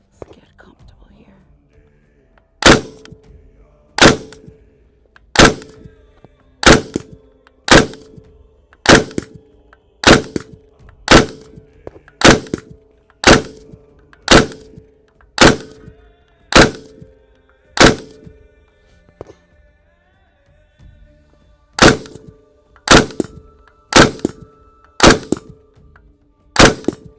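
An FN M249 machine gun chambered in 5.56 fires at a range. About twenty sharp, loud reports come one at a time at an even pace, each with a brief ring, and a short pause falls before the final few.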